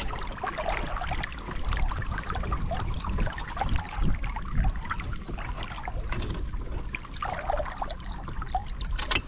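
A Walker Bay 8 sailing dinghy moves quickly through water, its hull splashing and gurgling in continuous choppy rushes up close, with no talking.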